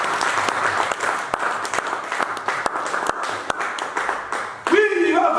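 Congregation clapping during church worship, a steady dense stream of applause with sharp individual claps, fairly close and continuous, ending with a brief change in sound near the end.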